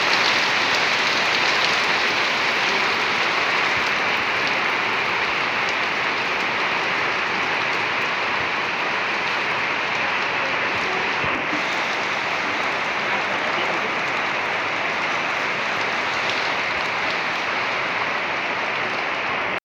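Heavy rain pours steadily in a village setting, driven by strong wind, forming a dense, unbroken hiss at constant loudness throughout.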